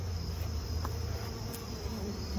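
Honey bees buzzing around a nucleus colony box, a steady, even insect drone close by, with faint small clicks over it.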